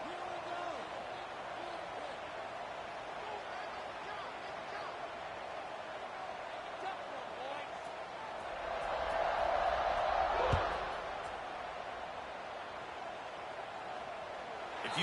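A college football video game stadium crowd at Michigan hosting Indiana, a broad steady murmur that swells briefly into a louder roar near the end before settling back to a constant buzz.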